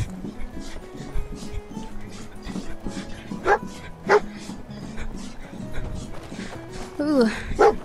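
The dog companion Dogmeat in the video game Fallout 4 barks and yips a few times in short bursts, mixed with game sounds and a person talking over the top.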